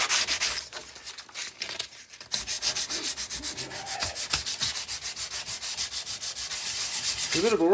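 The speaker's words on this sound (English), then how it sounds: "A bit of a workout there, sanding." Hand sanding a lacquered guitar neck, a steady run of rhythmic back-and-forth abrasive strokes, close and fairly loud, with a brief pause before the strokes resume at a quicker, even pace.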